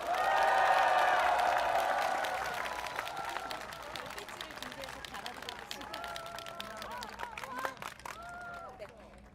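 A large outdoor campaign rally crowd bursts into applause and cheering that is loudest at first, then thins into scattered clapping and crowd murmur, with a voice over the loudspeaker rising near the end.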